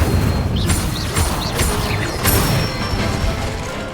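Incendio fire spell cast repeatedly in Hogwarts Legacy, a series of loud whooshing bursts and crackling flares with several sharp pops over a dense game soundscape.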